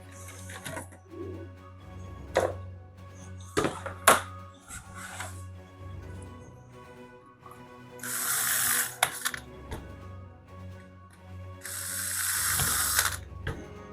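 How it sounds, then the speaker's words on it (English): Hand ratchet or screwdriver turning screws into the ends of a panel inside a bus camper conversion, with scattered clicks and knocks and two longer bursts of rapid ratcheting, close and fairly quiet. "So now I've just got to screw the ends on."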